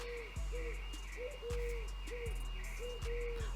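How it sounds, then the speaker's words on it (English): Pigeon cooing repeatedly in a regular rhythm of soft, low, rounded coos, fairly close and steady over a low background hum, with no talk. "Why does every single thing want to make noise like there's a fucking pigeon?"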